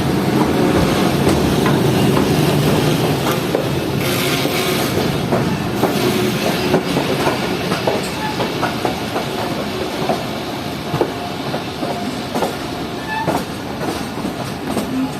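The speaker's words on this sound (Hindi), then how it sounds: "ट्रेन ट्रैक चेंज करते हुए लूप की तरफ जाते हुए" The Allama Iqbal Express rolls through track points onto a loop line near Shahdara Bagh Junction in the rain, with a continuous close rumble and irregular clickety-clack of wheels over the switches.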